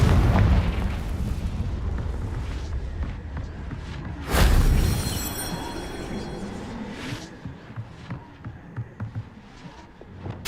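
A Confringo blasting spell explodes in the Hogwarts Legacy video game with one loud, deep boom and a bright crackling burst midway. Rumbling game noise surrounds it and fades into scattered crackles afterward.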